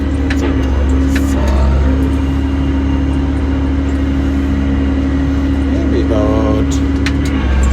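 An 1870 tractor engine drones steadily and loudly while pulling harrows, a constant low rumble running throughout with someone talking over it.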